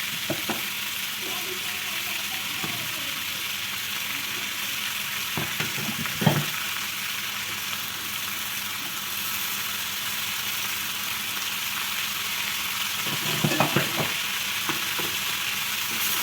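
Eggplant and potato pieces fry in a pan with a steady sizzle. Occasional clattering bursts of stirring break through, two of them clearly audible.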